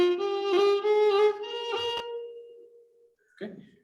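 A Carnatic gamaka sung as a double note, a single voice sliding and oscillating on a held pitch with a quick repeated inflection, loud and alone, then fading into a brief soft trailing sound.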